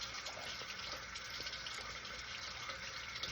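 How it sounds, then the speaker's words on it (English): Running tap water pours steadily and close for a face rinse at a sink, a continuous bright hiss with small splashes and no speech. "So we're just going to go ahead and rinse that off."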